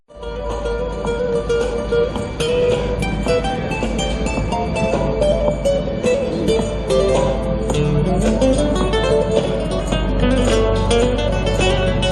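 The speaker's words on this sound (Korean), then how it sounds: "지금 기타 소리 들리시죠?" Live acoustic guitar played by a street musician on Arbat Street, Moscow, a steady strummed and picked melody outdoors, close and fairly loud, with faint street ambience behind it and no talking.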